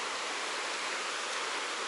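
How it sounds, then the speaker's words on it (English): Small waterfall flowing below a hiking trail in the foothills, a steady, unbroken broadband rush of water heard from a distance with no voices over it. "There's a small waterfall down there."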